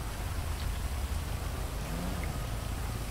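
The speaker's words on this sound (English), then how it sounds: "I know it's raining out" Steady rain falls in Grand Theft Auto V, a constant dense hiss of drops on surfaces with no breaks and no voices.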